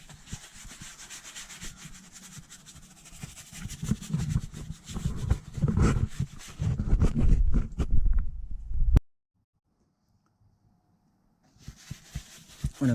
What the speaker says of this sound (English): I am simply going to take a clean microfiber towel and wipe everything off